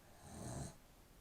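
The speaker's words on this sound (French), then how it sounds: "Ma chienne, elle commence déjà à ronfler." A dog snoring nearby, a single soft, wheezy inhaled snore that rises and cuts off, faint and alone.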